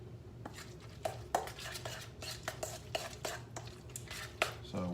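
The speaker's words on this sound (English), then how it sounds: "So we just want to mix it up well." A zucchini tot mixture is stirred in a bowl with a spoon, a quiet series of close clinks and scrapes against the dish at an uneven rhythm.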